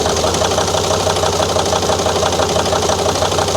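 A 2003 Volvo XC90 D5 diesel engine idles rough and misfiring with an injector disconnected, a loud, close, uneven rhythmic knocking chug throughout, with no voices.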